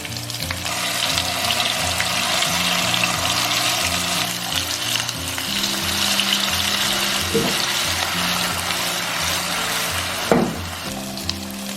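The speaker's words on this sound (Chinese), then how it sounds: "锅中倒少许食用油，下入豆腐，小火慢煎" Tofu pan-frying in a little cooking oil over low heat, a continuous close sizzle and crackle throughout with a couple of brief scraping stirs, no voices.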